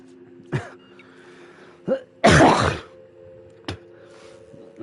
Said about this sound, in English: I'm sure you guys have heard the coughing